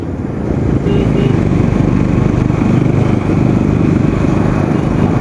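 Several motorcycle engines, including a Duke 250, a 220 and an XPulse, rumble together after a quick rise, a loud, dense, steady drone heard nearby.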